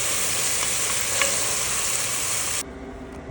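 A venison buck roast sears in a Dutch oven, giving a loud, steady hiss and sizzle of hot fat close up that drops abruptly to a quieter simmer near the end.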